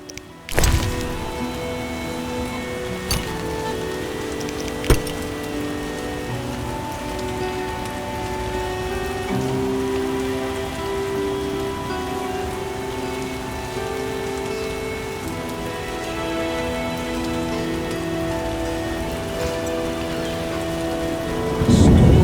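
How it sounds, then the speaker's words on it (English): Heavy rain pours steadily in The Witcher video game with occasional sharp cracks and rumbles of thunder, loud and continuous throughout. "Some serious rain. What a downpour."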